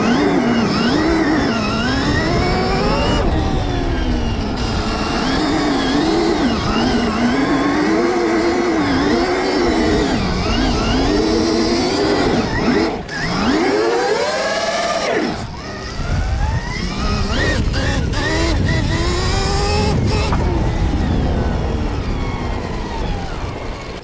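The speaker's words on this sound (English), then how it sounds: "Getting this motor nice and warm now." A Stark electric dirt bike rated at 80 hp is warming its motor, giving a loud continuous whine that rises and falls in pitch with repeated throttle swells. No voices can be heard.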